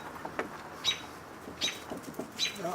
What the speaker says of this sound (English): it sounds like the robins are out